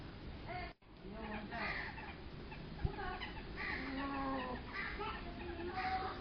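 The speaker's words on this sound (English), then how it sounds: "This is a family of hens and cockerels that we've had with us many years." Hens and cockerels cluck and call steadily at a bird sanctuary, close and continuous, with one brief drop to near silence early on and a single sharp knock partway through.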